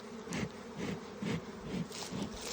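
Honeybees buzz around a busy beehive that is being split, a steady close insect drone with swelling, pulsing passes. No voices, moderately quiet.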